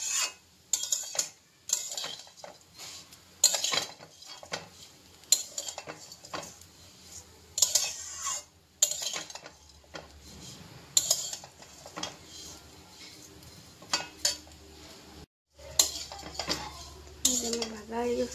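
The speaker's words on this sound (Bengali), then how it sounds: "সেই দিয়ে ভাজতেছি সিমাই।" A spatula scrapes and clanks repeatedly against a pan while semai vermicelli is stirred and fried in ghee, giving irregular, close metallic taps and rattles over a quiet background.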